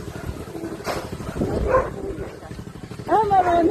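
Dogs bark in short bursts at a breezy outdoor spot, a few yaps and whining barks mixed with people talking nearby.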